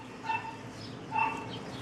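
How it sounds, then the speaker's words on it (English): Two short, distant barks from a mother dog about a second apart, muffled and moderately faint over a steady background hum. "That's their mama barking because I took them away."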